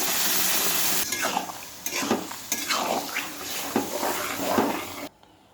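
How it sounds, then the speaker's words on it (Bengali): A spoon scrapes and stirs ginger, soybean chunks, potato and dal in a pan for a vegetarian dish, with several uneven clattering strokes and a soft sizzle close by and no voices. "এখন দিয়ে দেবো আদা সয়াবিন আলু একটু হালকা মেরে নেব দিয়ে দেবো ডাল"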